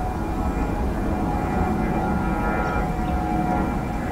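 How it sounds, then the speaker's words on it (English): A steady, broad roar of an aircraft taking off fills the air continuously, with a faint high whine riding on top. "there's so many aircraft taking off when it's early"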